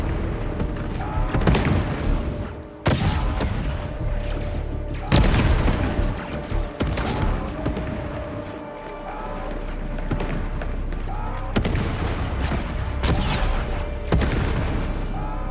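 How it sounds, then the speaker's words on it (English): Fireworks go off in the video game Star Wars Outlaws as a string of loud, sharp bangs and rumbling booms at irregular intervals over a dense, noisy background. "Starting the fireworks."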